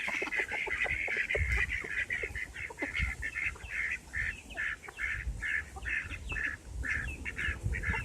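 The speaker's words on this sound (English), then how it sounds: "Where'd all these birds come from?" A large flock of ducks and geese calls continuously, with overlapping quacks and honks in a busy, fairly close chorus and no talking.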